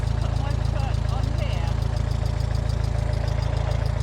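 A Ford Model T engine idles at fast revs with a steady, low, throbbing drone and rapid even pulses, close by, while people talk over it.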